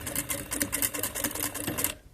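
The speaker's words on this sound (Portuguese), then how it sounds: "vamos costurando até o final desse zíper." An electric sewing machine stitches an invisible zipper with a universal presser foot, running in a fast, steady mechanical rattle that is close and continuous, with brief pauses, before stopping near the end.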